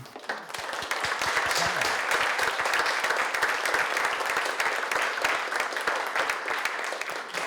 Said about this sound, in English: I think we should give a warm applause to the